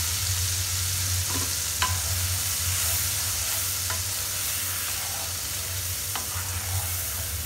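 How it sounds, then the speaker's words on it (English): A yogurt mixture is stirred into a potato and capsicum curry sizzling in a pan, with steady frying hiss throughout and a few light scrapes and clinks of the spoon, no voices. "Mix it again. Now add the dahi mixture into it"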